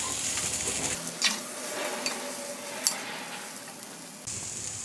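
Boiled potato pieces stirred into masala frying in a pan make a steady sizzle, and the spoon scrapes against the pan with a few soft clinks.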